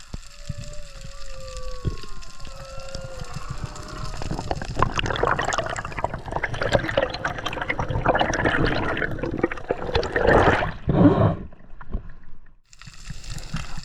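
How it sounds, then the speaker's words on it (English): Underwater ambience off Hawaii's Big Island with long, sliding tonal moans of humpback whale song early on, then loud bubbling and churning water noise that rises and falls. "I can really hear the humpback whale song now."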